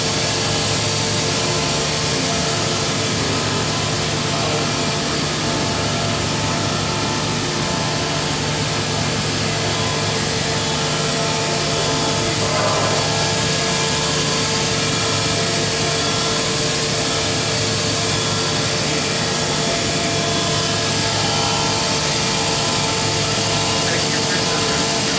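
A 1998 DMG Deckel Maho DMU70V five-axis vertical machining center rotates and swivels its table with a steady, smooth mechanical hum and broadband whir. The sound is loud, even and unbroken, with no talking.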